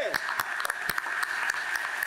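Scattered claps sound from a small audience greeting the finalists at the 2021 Grand Prix Desjardins de la culture ceremony in Lanaudière. The sharp, uneven claps ring out over a steady electronic tone.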